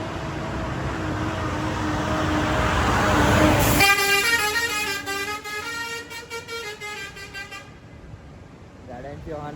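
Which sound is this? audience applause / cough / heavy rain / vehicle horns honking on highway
vehicle horns honking on highway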